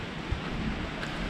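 Steady rain falling on a garden, a soft even hiss with faint pattering throughout and no voices.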